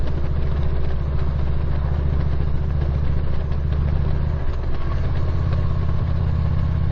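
A motorcycle out on a ride on a road in northern Ohio, its engine a steady, loud, close drone with a rough, throbbing low rumble and wind noise throughout.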